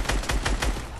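Rapid automatic gunfire in Fortnite, a tight burst of about four to five loud, close shots in quick rhythm, no talking over it.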